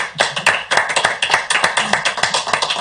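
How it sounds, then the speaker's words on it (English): Small debate audience applauding, a close, fairly even patter of hand claps running steadily without talk before it fades. "Please give him a round of applause."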